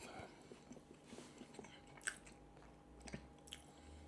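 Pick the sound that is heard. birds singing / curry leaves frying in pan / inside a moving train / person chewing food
person chewing food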